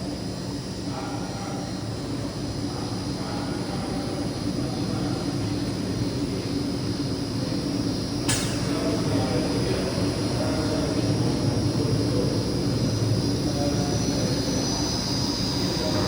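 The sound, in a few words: Neptune Benson Defender filter pump starting back up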